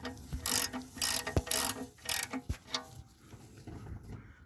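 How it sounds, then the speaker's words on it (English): A hand ratchet tightens a car's oil drain plug bolt, giving several bursts of close, crisp clicking with short pauses between them and no talking. "Grab the ratchet and then we'll tighten the bolt up."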